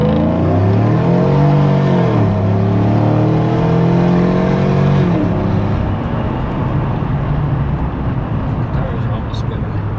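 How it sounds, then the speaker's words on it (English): A cammed truck with a free exhaust revs hard, its choppy, lumpy idle rumbling loud and close. The engine swells and falls twice before settling into a rough, chopping idle, with a voice talking over it. "This thing sounds so good now. You still hear the chop. It still has a little bit of a rumble to it."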